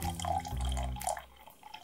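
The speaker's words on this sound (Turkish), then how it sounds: "Şimdi ben bunun üstüne biraz daha su ekliyorum." Water poured from a container onto a baby diaper in a home experiment, a brief close splashing gush that tapers into trickles and drips.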